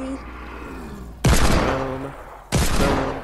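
Two loud bursts of gunfire from the video game Fortnite Battle Royale, each a sharp broadband blast that sustains and slowly fades, with a quieter stretch of game sound and faint talk before them.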